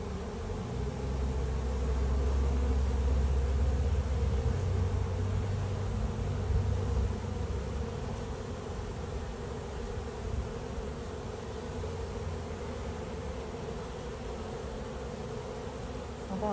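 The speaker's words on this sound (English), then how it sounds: "these bees decided to split themselves in half and come and live with me" A honeybee swarm moving into a top bar hive fills the air with a dense, steady buzzing hum that stays constant throughout, close and continuous, with no voices.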